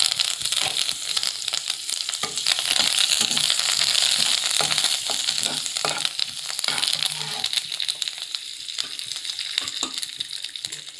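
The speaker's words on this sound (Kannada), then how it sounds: "ಸಾಸಿವೆ ಚಿಟ್ಪಟ ಅಂತ ಇದೆ." Mustard seeds splutter and crackle in hot oil while cooking Hurigadale chutney pudi, a steady dense sizzle with scattered sharp pops, close and continuous throughout.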